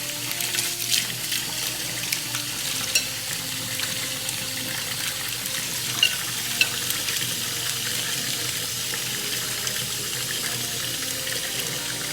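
Tap water runs steadily into a sink as hands are wet while handling sourdough, a continuous close hiss with small splashes and no talking.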